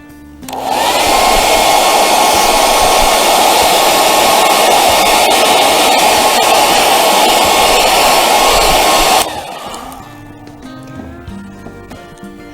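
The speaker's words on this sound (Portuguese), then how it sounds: "e seco com o secador." A hair dryer blows steadily on freshly painted country-style craft work, drying ochre and green paint; the loud continuous whoosh runs for about nine seconds alone, then cuts off abruptly, leaving faint room noise.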